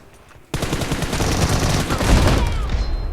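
Bursts of automatic gunfire in PUBG break out abruptly after half a second of quiet, a dense, loud, continuous fusillade of rapid shots lasting to the end.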